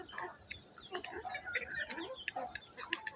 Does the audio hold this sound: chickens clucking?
yes